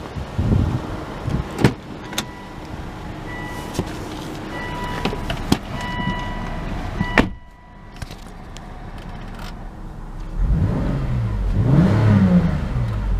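A 2013 Volvo XC90 R-Design with the 3.2 engine idles with a few clicks and thumps, then is revved, rising to a loud, close, swelling roar near the end.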